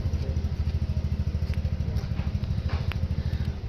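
Rapid, even chugging of a 35-horsepower engine on a farm threshing machine with a direct gearbox, a loud close steady low pulse with light clatter and no talking.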